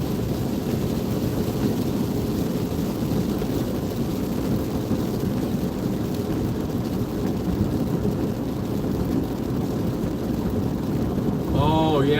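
Steady rain falls, a constant dense hiss with a low rumble beneath it that stays even throughout, with a brief higher sound at the very end.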